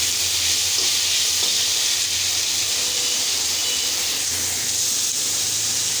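Onion frying in a small amount of oil, a loud, close, continuous hiss and sizzle with faint stirring scrapes underneath, steady from start to finish with no talking.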